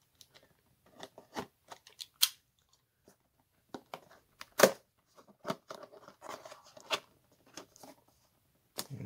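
Tape being cut and peeled open on a product box for a wireless charging car mount, heard as faint, scattered scratchy snips and crinkles in an otherwise quiet room.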